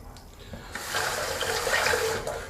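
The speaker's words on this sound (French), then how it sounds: "je me rince" Tap water runs from a faucet into a sink while the face is rinsed after shaving, a steady close splashing hiss that starts abruptly and continues with small splashes.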